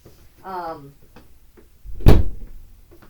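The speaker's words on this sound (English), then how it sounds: "Speaking of Rigby, I better shut my door better." A door is shut with a single solid thump near the microphone, following a brief stretch of someone talking.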